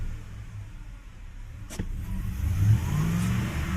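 A 2016 Ford F250 with the 6.2L engine idles roughly, then the revs climb slowly and unevenly under throttle, the engine's rising drone close by and steady, with a brief click in the middle.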